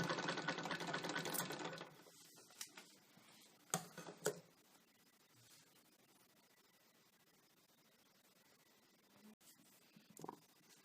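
Sewing machine stitching the back neck of a blouse, with a loud steady run of stitching in the first two seconds, then a few short bursts and faint handling sounds under quiet room noise.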